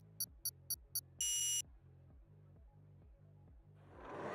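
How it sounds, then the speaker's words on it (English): Start lights in a racing video game set in Qatar sound off as four short electronic beeps and a longer tone, with a low idling engine pulsing beneath and rising noise at the end. "We hear the beeping going."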